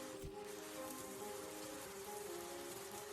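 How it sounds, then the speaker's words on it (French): Rain falls as a soft, even hiss of drops on surfaces, faint and continuous throughout, with a low tonal hum running underneath. "Il pleut vraiment"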